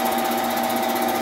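A band saw cuts purpleheart wood with a steady, dense whine and buzzing hum, loud and close, holding even throughout with no talking.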